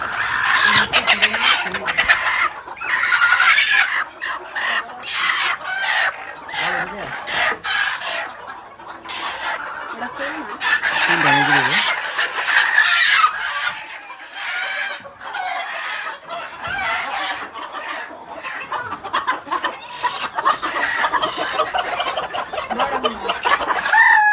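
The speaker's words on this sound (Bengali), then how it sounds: "এখানে চারটা কোচা মুরগি আছে" Four broody hens cluck almost continuously in a coop, nearby and fairly loud, with rising and falling bursts and no talk over them.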